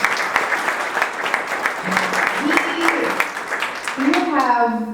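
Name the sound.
audience applause for the speaker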